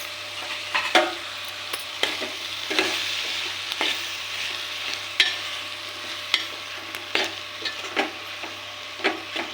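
Tomatoes frying in a pan are stirred with a run of irregular scraping, knocking strokes over a steady low sizzle, close and fairly loud, with no talking.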